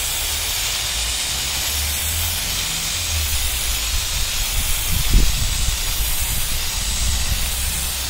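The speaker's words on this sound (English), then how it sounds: "I forgot to put the clear coat on this one, so let me put it on quick." Steady aerosol hiss of clear coat sprayed onto a part from a VW Kombi, a continuous close spray lasting several seconds with a brief low thump partway through and no talk.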